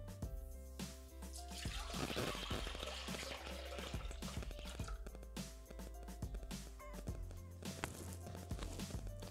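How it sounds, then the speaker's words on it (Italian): Milk pours into a Thermomix jug while making a pistachio liqueur cream, a close, continuous liquid trickle and splash that swells and then eases off, with some clattering and handling noises over a steady mechanical hum. "Mettiamo all'interno del boccale il latte."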